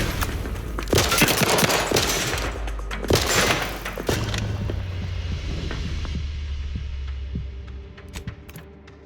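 Loud, close gunfire bursts and explosive thumps in The Outer Worlds 2, dense and irregular for the first few seconds, then thinning into scattered distant shots over a low hum.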